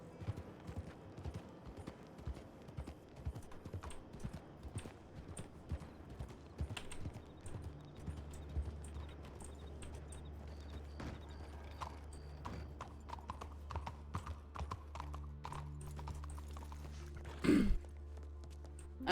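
Horse hooves clip-clop steadily in the RedM roleplay game, a continuous rhythmic walking gait close by, with a brief louder burst near the end.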